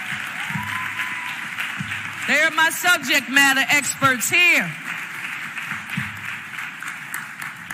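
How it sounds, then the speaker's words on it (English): Applause for Cheryl Hill and Deputy Managing Director Crystal Yates during a Philadelphia budget address, swelling briefly for about two seconds amid a speaker's voice, with talk before and after. "give them a round of applause"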